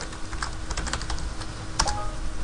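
Close, steady tapping of keys on a computer keyboard while renaming a file in Windows, a quick run of keystrokes with a few sharper clicks, heard alone without talk.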